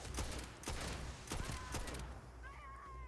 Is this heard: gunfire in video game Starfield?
yes